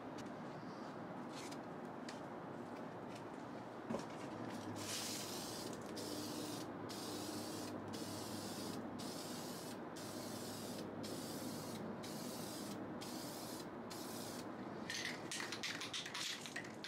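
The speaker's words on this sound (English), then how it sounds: "Make sure to spray different angles to get complete coverage." An aerosol spray can of paint hisses in a long sustained burst while coating a car sun visor, then sprays in a series of short, evenly spaced bursts, close by.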